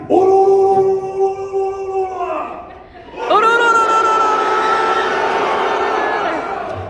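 A large anime convention crowd in a hall roars and cheers, a sustained shout that dips briefly and then surges again louder and fuller, the many voices blending into a steady wall of sound.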